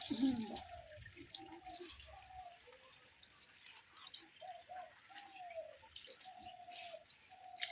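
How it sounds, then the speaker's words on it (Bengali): Water trickles and drips from a kitchen tap while leafy greens are rinsed, a soft, uneven splashing with gurgling tones, fairly quiet and steady, with no talk. "এদিকে শাকগুলো ধুয়ে নেওয়া হচ্ছে বাইরের থেকেই এটা আস্তে করে দেবো কলটা"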